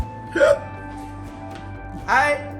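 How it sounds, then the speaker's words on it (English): A man hiccups twice, about a second and a half apart, each a short voiced gulp standing out over a quiet background with a faint steady hum. "I've got hiccups."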